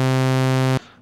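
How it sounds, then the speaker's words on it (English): A single sustained sawtooth tone from a Korg M1 synthesizer plugin, bright and buzzy with dense even harmonics, held for under a second, then cut off, leaving a short faint tail. "So a really simple sawtooth wave sounds like this."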